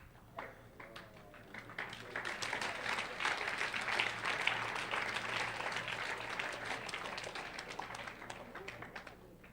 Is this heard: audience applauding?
yes